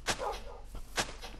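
A dog barks in the Minecraft video game, two sharp barks about a second apart, moderately close and alone with no speech.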